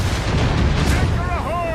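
Ship cannon fire in the Assassin's Creed Rogue video game during a naval battle, a loud rolling boom with heavy low rumble, followed by shouting voices over the tail.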